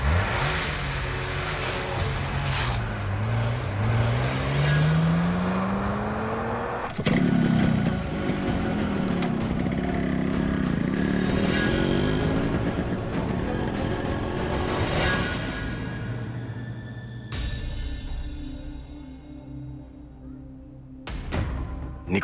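A car is started and driven off in a hurry, its engine revving and rising in pitch as it pulls away, loud and close, with the engine drone continuing throughout.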